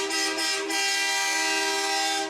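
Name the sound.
garbage truck horns honking at a parade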